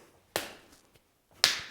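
Two sharp slapping impacts of a Wing Chun Pak Sao slap block about a second apart, close and crisp, the second louder, with quiet gaps around them.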